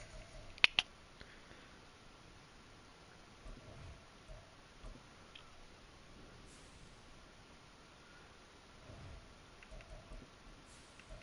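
Faint, steady rain falls in an EA Sports NFL football video game, Commanders at Jaguars, as a soft continuous hiss with a couple of sharp clicks near the start.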